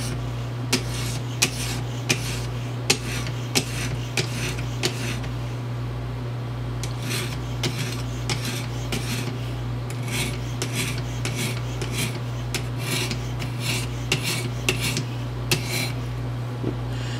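A knife drawn repeatedly across the stone of an EdgePro Apex sharpener makes rhythmic rasping strokes, close and steady, in bursts separated by brief pauses over a constant low hum.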